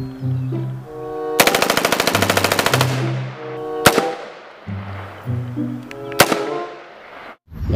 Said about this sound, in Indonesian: tembak-tembakan laras panjang